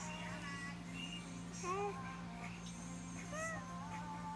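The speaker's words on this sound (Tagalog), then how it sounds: "May pusa po kami dito." A cat meows a few times, with rising and falling calls spread across a few seconds, over a steady low hum and soft background chatter.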